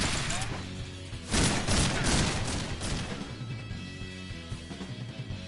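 Gunfire in the video game Resonance of Fate: a dense burst of shots erupts around the one-second mark and rattles on for a couple of seconds, then tapers into scattered lighter pops over a steady game background.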